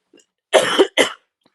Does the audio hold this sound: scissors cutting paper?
no